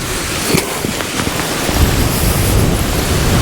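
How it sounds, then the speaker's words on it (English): A big waterfall pours down a cliff on the Caithness coast, a loud, steady broadband roar of rushing water that fills the scene without pause and builds slightly toward the end. "Big waterfall down here,"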